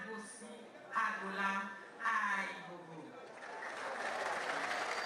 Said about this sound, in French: Mambo Eboni est la plus applaudie.